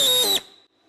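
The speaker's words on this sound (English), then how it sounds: "let's put the die grinder on it" A die grinder enlarges a small hole in metal, giving a loud, high-pitched whine that cuts off abruptly and fades into near silence within a second.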